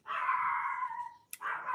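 A dog gives a drawn-out howling bark at middle distance, then a short break and a click before a second similar call starts, fairly faint and with no speech.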